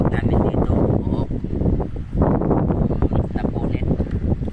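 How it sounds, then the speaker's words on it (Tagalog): Strong wind gusts roaring across the water while sailing a small boat at sea, loud and continuous with a brief lull midway, mixed with rustling and flapping noise close to the microphone. "Sobrang lakas ng hangin guys."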